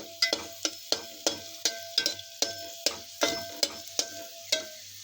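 Garlic frying in a pan for tomato soup, with a soft sizzle beneath repeated sharp metallic clinks as a utensil stirs and taps against the pan in a quick, uneven rhythm.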